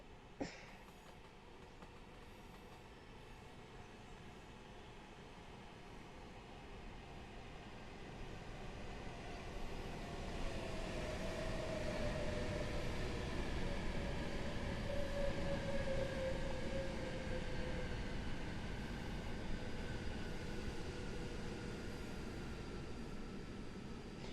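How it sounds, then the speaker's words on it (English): A Class 390 Pendolino electric train approaching and running through Coventry station on the West Coast Main Line, a low rumble building after a sharp click and swelling into a sustained roar with a faint whine, no talk. "here comes the 2022 to Wolverhampton from London Euston."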